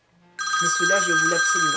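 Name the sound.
mobile phone ringing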